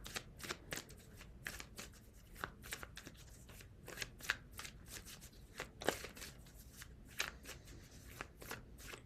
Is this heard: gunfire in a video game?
no